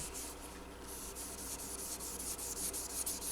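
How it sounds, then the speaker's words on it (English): A gray Scotch-Brite pad rubs over a finish between 1000 and 1200 grit sanding during instrument finishing work: quiet, steady back-and-forth scrubbing strokes in a continuous rhythm, heard alone. "Now in between the 1000 and 1200, I like to use this gray Scotch-Brite pad."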